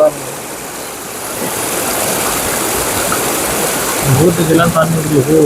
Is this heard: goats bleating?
no